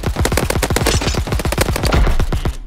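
Rapid, loud gunfire in the Mini Royale video game, about twenty sharp shots in quick, steady succession, close and alone.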